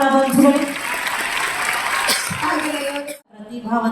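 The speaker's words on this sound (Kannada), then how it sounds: "ಡಾಕ್ಟರ್ ಎಚ್.ಸಿ. ಮಹದೇವಪ್ಪನವರು ತುಂಬ ಚಪ್ಪಾಳೆಗಳ ಸ್ವಾಗತವನ್ನ ಕೋರೋಣ ಬಂಧುಗಳು." An audience at a Karnataka social welfare department awards ceremony claps to welcome minister Dr. H.C. Mahadevappa, a moderate burst of applause heard under a voice on the microphone that stops briefly near the end.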